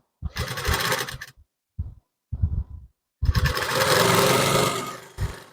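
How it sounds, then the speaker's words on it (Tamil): An electric sewing machine stitches the neck band on the front of a blouse. Its motor whirs in several short bursts and then runs in one longer steady stretch, loud and close, with no speech. "இந்த மாதிரி ஃப்ரண்ட் சைடு மேலே பட்டியை வச்சு ஸ்டிச்சிங் வந்து போடுங்க."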